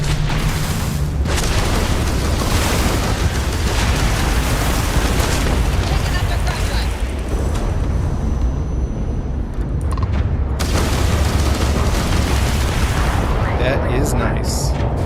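Missile explosions in the space game Starfield, heavy booming blasts rolling continuously and loudly, with deep rumbling that briefly thins out before surging again, under occasional talk.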